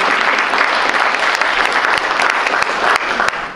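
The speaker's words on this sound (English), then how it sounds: "You are the heroes, so I think you deserve applause." Audience members at a civic voting forum applaud election workers with sustained, fairly loud clapping from a modest crowd, individual claps standing out sharply as it continues without speech.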